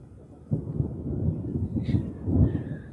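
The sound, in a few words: thunder during a thunderstorm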